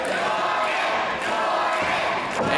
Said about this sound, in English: he hears the crowd in the Evansville Coliseum cheering him on